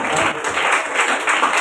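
A crowd at a Christian prayer group's friendship gathering claps to honor Prabhu Das, a brief burst of many hands applauding together at an even, fairly loud level.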